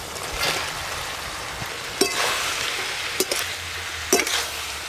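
Fried chicken pieces, stirred into chili sauce paste with chopped green chili in a pan over a clay stove, give a steady close sizzle, with a few sharp scraping stirs against the pan.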